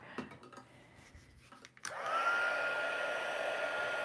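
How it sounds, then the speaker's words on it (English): A heat gun switches on after a few light clicks and handling noises, then blows a steady, close, even whoosh while heating specialty texture paper. "can get my heat gun here."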